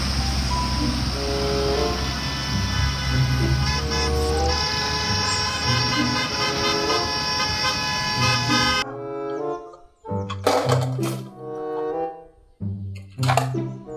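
A toy school bus sounds a loud, sustained electronic horn toot for several seconds, then switches to a short run of bright, separate melody notes, with no talking.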